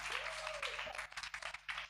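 Congregation at a Christian prayer gathering clapping to thank God, a dense burst of applause that thins into scattered, uneven claps over a low electrical hum.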